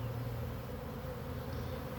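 Honeybees in a starter hive hum in a steady, dense buzz that stays close and continuous throughout, with no voices.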